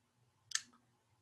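A single soft plastic click from a keypress on a graphing calculator, close and faint, in an otherwise quiet room.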